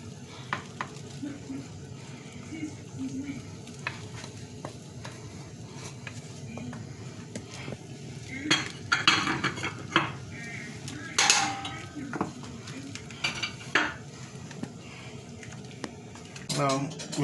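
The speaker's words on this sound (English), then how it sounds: "So we're adding egusi now." Egusi is stirred into a pot of boiling okazi soup, with scraping and clinking of a utensil against the pot over a steady bubbling boil, a few louder metallic knocks and stirs standing out close up.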